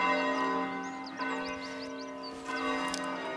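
Church bells in the video game Foundation chime in a cascading sequence, resonant tolls ringing one after another with long sustained hum, clear and prominent.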